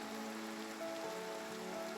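Steady hiss of rain falling in Minecraft, a soft continuous patter that fills the scene evenly with a few faint tonal game sounds underneath, no voices.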